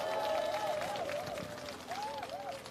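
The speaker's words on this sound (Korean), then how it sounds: "여러분 뜨거운 박수로 환영해 주시기 바랍니다." A crowd at an outdoor campaign rally in Cheonho Park, Gangdong, applauds steadily and a little distantly, with whistle-like warbling tones rising over the clapping.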